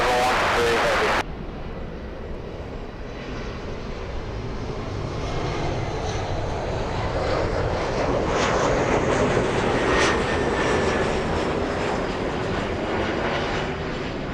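A Delta heavy jet airliner landing on runway 24 right at LAX, its engine roar building into a loud, sustained rumbling whoosh as it passes close by.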